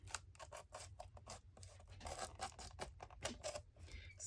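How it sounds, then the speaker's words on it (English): Scissors cutting through layered material with a plasticized outer coating, close up: a quick series of crisp snips and scraping crunches in uneven rhythm, fairly quiet with no talking. "I feel like I can almost just cut it with the scissors right on that line"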